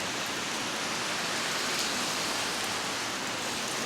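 Steady rain falls outdoors near a building, a dense, even hiss with no breaks and no voices over it.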